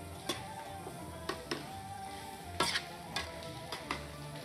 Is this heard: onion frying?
yes